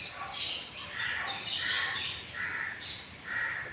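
A crow caws over and over in a steady rhythm, a little distant, against a constant hiss of outdoor background noise.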